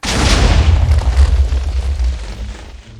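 A Minecraft explosion bursts with a sudden loud boom and then rumbles into a crackling, decaying roar over about three seconds.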